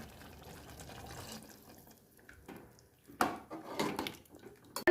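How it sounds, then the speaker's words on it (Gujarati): Water is poured into a guar bean and potato curry in a cooking pot: low background noise, then a short splashing, gurgling pour in the second half that ends in a louder splash. No one speaks. "હવે તેમાં પાણી ઉમેરી દઈશું।"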